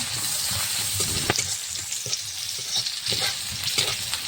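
Raw garlic sizzles in a pan of onions cooked in mustard oil for a Bengali banana-flower curry, a loud continuous frying hiss broken by rhythmic stirring scrapes, close and alone without speech.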